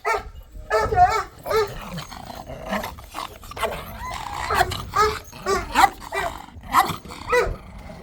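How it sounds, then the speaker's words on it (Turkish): A dog barks several times in short bursts, fairly close, with people talking intermittently around the barks. "Bir köpek var burada."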